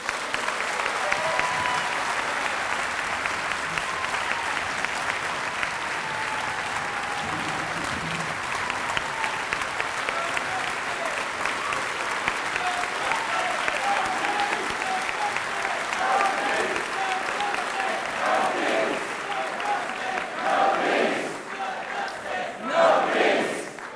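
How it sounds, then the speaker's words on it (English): Sustained applause from a rally crowd welcoming a speaker at a Marxism 2019 closing rally, a dense steady wash of clapping with some cheering that runs throughout and swells near the end. "I'd like everyone to give a very, very big round of applause and a big welcome to Marcia Rig."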